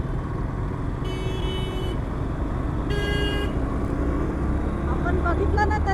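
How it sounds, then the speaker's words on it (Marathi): Car horns toot in busy road traffic: two short, loud honks a couple of seconds apart over a steady engine rumble, with further quick beeps near the end. "अरे परत हॉर्न मारला."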